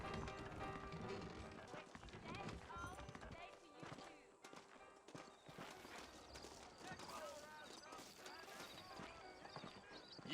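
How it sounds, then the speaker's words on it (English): Horses trotting in Red Dead Redemption Remastered, a busy run of clip-clopping hoofbeats with an occasional whinny, layered under voices talking and other game sound throughout. "I got the horses saddled up and ready out front"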